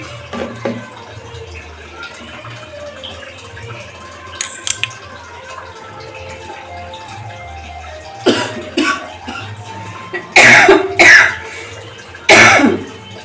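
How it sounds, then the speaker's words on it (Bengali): Several close, harsh coughs burst out in the second half in a hot kitchen near a cooking fire, one after another, over faint background noise and a quieter clatter earlier on. "এরকম কাশি হচ্ছে"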